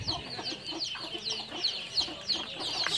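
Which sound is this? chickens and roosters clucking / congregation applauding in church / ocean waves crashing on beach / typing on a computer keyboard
chickens and roosters clucking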